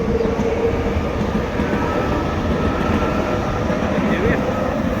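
An RER commuter train running through Houilles-Carrières station, a loud, steady rumble of rolling cars and rail noise that fills the whole stretch.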